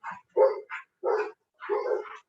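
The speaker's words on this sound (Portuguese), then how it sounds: "tá cachorro no portão se pegando" Dogs at a gate bark and yelp in a short scuffle, several sharp barks in quick bursts, fairly close with no talk.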